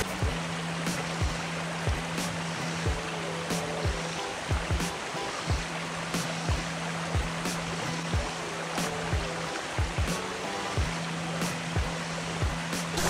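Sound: flowing creek water

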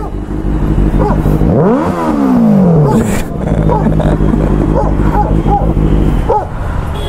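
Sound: dogs barking

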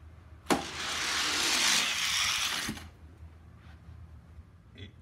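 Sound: Hot Wheels toy truck racing down track

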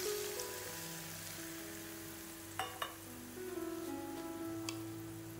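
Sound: hot oil poured over grilled eggplant, sizzling

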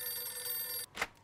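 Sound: telephone ringing in video game Mafia 2

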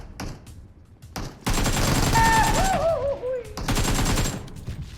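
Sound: gunfire in a video game shooter

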